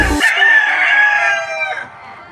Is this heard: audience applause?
no